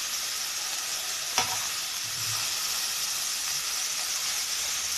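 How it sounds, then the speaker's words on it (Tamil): Beetroot biryani masala with chopped mint being sautéed in a pan gives a steady close sizzle with a few stirring scrapes, alone and without talk. "சேர்த்து இதோடவே நல்லா வதக்கி விடலாத."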